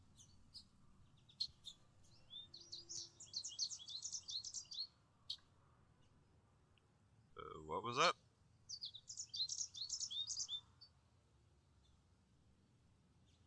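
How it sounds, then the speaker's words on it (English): High video-game bird chirps and tweets come in quick bursts, faint against quiet background, with a person speaking briefly midway. "I can hear birds."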